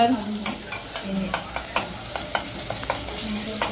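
Prawn curry masala with tomato sizzling and frying in a pan, a continuous crackling hiss broken by repeated sharp clinks of a spoon stirring, close and without talk.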